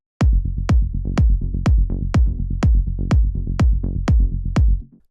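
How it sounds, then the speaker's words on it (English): Punchy progressive house kick drum layered with bass, hitting in a steady four-on-the-floor pulse of about ten loud, tight beats, each with a deep thump and short decaying tail, alone without voices. "And the kick and the bass combined sound like this."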